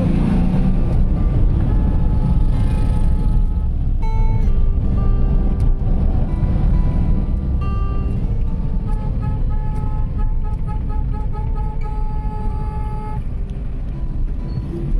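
Heavy road traffic in the Philippines heard from inside a moving vehicle during rush hour: a constant loud engine and road rumble, with car horns tooting repeatedly throughout.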